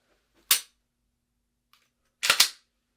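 Pistol shots fired at multiple targets: one sharp report, a pause, then two quick shots in rapid succession, loud and close with no talk.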